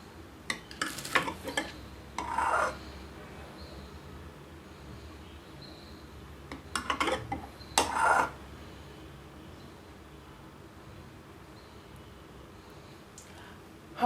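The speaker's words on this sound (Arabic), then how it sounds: "هفرك بقى السمنه" Bare hands rub ghee into sugar and kunafa pastry shreds in a bowl. Quiet scratchy, rustling bursts come in two short clusters separated by a lull, over a faint room hum.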